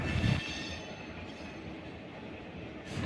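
A special intercity train, the Nagercoil service, rolls past nearby with a steady rumble of wagons and rail noise, loud and continuous with a brief heavier thump at the start and no voices.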